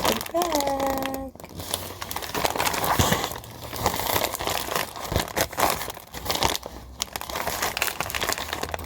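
A plastic bag used for packing orders crinkles and rustles loudly and continuously as it is handled up close, with brief pauses, while a person talks over it.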